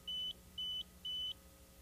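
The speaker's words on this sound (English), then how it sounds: "A slow beep every 5 seconds indicates the batteries are sufficiently charged." A 9800DLXT pipe and cable locator gives a slow battery status beep signalling charged batteries: three short, clean high-pitched beeps at an even pace, fairly quiet, over a low background hum.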